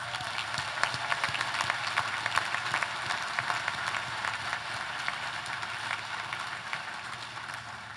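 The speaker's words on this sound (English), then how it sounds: "Let's all give the family and friends of our graduates a big hand." Sustained applause from a large crowd at a university commencement ceremony for graduates' family and friends, dense steady clapping that stays even throughout, heard from within the audience.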